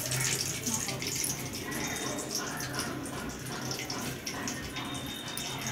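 Rohu fish and fish roe frying in hot oil with a mustard seed tempering: a steady, dense sizzling hiss that runs unbroken and fairly close throughout.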